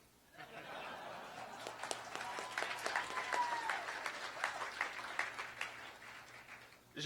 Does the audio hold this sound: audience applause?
yes